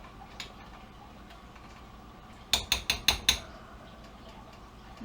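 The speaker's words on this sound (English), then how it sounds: "Stir it up again." Metal spoon clinking and scraping against a pot of carne guisada, a quick cluster of about five sharp clanks close by in the middle, with quiet kitchen background before and after.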